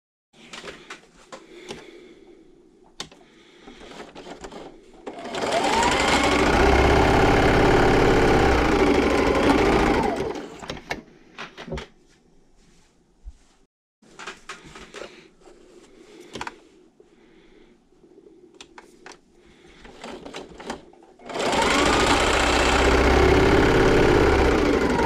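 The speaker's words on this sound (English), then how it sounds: "And then I'll just come back and I'll sew this together." A sewing machine stitches quilt fabric strips together for a sampler quilt block. It runs in two sustained, loud, steady bursts, with quieter fabric handling and small clicks between them.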